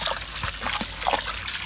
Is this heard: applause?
no